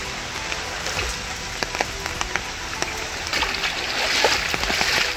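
Heavy monsoon rain pours over flooded houses in Karwar, Uttara Kannada, a dense steady hiss with scattered sharper drips that swells slightly toward the end.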